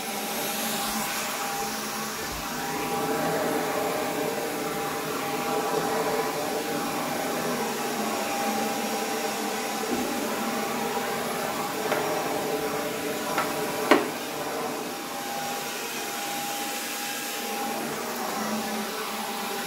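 A Jimmy PW11 Pro Max handheld vacuum cleaner with its brush runs steadily and loudly, a constant motor whine with airy hiss that holds throughout, with a brief click near the end.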